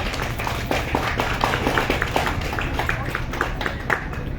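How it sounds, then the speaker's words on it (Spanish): An audience at a human-rights book presentation applauds a guest from the Comité Cerezo México, giving a steady round of clapping from a sizeable crowd with distinct individual claps standing out, heard throughout at moderate volume. "Démosle un fuerte aplauso al compañero"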